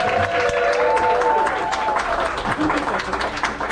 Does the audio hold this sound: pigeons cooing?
no